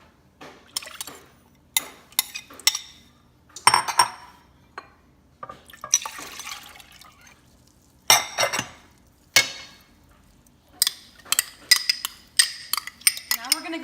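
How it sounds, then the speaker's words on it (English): Utensils clatter and scrape against a pan while liquid ingredients for a Middle Eastern semolina dessert (basbousa) are mixed together, giving irregular bursts of clinking and stirring with short quiet gaps. "I'm gonna go ahead and mix in the liquid ingredients together"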